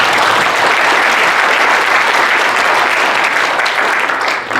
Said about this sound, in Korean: 축하하는 의미에서 박수 한번 부탁드리겠습니다.